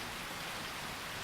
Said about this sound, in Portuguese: também está sendo em meio à chuva